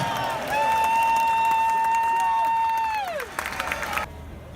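A large outdoor crowd at a Brexit march in December roars and cheers under a sustained whistle tone that falls away near the end, with general hubbub throughout.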